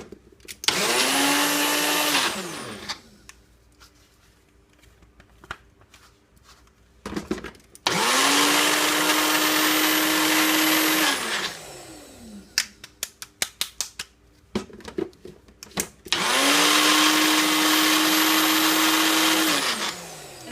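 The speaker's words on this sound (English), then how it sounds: "You can mix it by hand if you don't have a little mixer, but it's going to take a while." A small electric mixer creams walnut butter cookie dough in three loud, high motor bursts of about two to three seconds each. Quieter clatter and scraping from the bowl fill the gaps between them.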